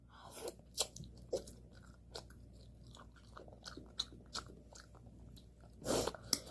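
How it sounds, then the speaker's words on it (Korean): Close, crunchy chewing and biting of spicy cold bibim-myeon noodles, with repeated soft bites and mouth sounds in an irregular rhythm and a louder burst of crunching near the end, with no talking. "이제 비빔밥을 먹어, 아, 비빔면을 먹어보도록 하겠습니다"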